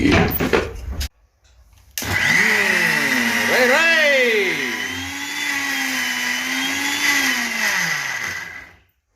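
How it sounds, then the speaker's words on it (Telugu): A kitchen mixer grinder grinds red chilli chutney, running in a short burst, stopping briefly, then whirring loudly for several seconds with its motor pitch rising and falling before cutting off. "రెండు సార్లు జ్ అనిపించి ఇంకొంచెం అది బాగా మెత్తగా అయిన తర్వాత వేరే గిన్నెలోకి తీసుకున్నాం"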